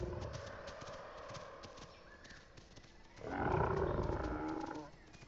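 A juvenile carnotaurus dinosaur in a video game gives a loud, throaty, drawn-out call lasting over a second, rising out of a steady background of thuds and rustling game noise.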